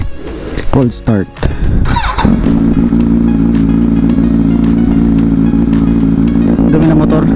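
A motorcycle engine coughs and catches after a few quick cranks, then settles into a steady, loud idle nearby.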